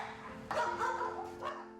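Several abandoned rescue dogs bark and yip close by, a burst of overlapping barks starting midway with a second flare near the end, no talking.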